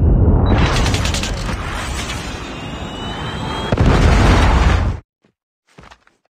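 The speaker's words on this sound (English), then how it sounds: "Be advised, hostile Predator missile inbound." Predator missile strike in Call of Duty Mobile on the Hovec Sawmill map: a loud, sustained roaring explosion lasting several seconds, swelling again near the end before cutting off abruptly, followed by a faint brief blip.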